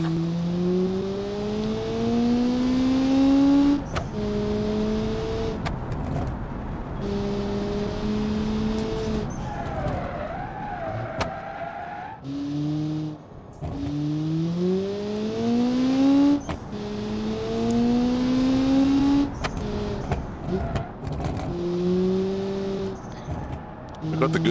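Custom-built car engine in the BeamNG Drive video game revving and shifting through gears, its tone climbing and dropping repeatedly as it accelerates, loud and continuous with someone talking over it.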